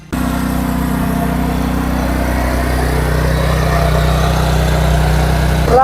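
A 12 HP engine driving a back rotary tiller working dry, hard farm soil; a steady, loud mid-pitched engine drone that runs continuously and evenly throughout, with no talk.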